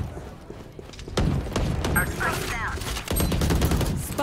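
Gunfire from the Valorant video game: a burst of sharp, rapid shots fills the middle of the clip over a dense, busy game mix, with loud impacts resuming toward the end.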